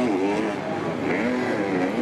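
MX2 motocross motorcycles racing at MXGP Lombok 2023, several two-stroke-style engines howling and shifting pitch together in a continuous, loud, near wail as the pack charges, with no break in the engine noise.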